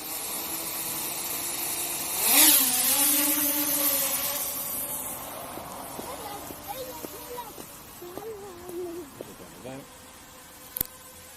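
A Walkera AiBao quadcopter drone spins up and lifts off, a sudden buzzing whine that swells, then settles into a wavering propeller hum with shifting pitch as it hovers nearby, a voice speaking over it.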